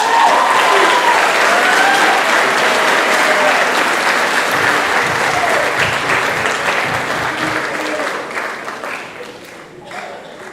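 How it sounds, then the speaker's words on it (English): Loud, sustained applause from an audience at a band banquet, a dense wash of clapping that holds steady before gradually tapering off toward the end. "Please give a warm round of applause for Matthew Goodson."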